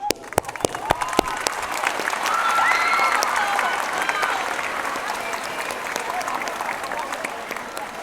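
An audience applauds a friend being honoured during a speech, loud sustained clapping from many hands with a few sharp close claps at the start, holding steady before easing slightly toward the end.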